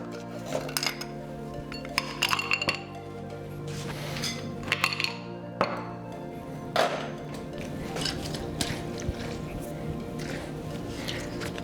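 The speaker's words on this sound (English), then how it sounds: "I'm gonna start by adding ice into a rocks glass" Ice cubes clink and rattle as they drop into a rocks glass for a Black Russian cocktail, with scattered glassy chinks over a steady low background hum.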